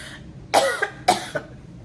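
Two sharp coughs close to the microphone, spaced about half a second apart, from someone eating very spicy food, with quiet room background between them.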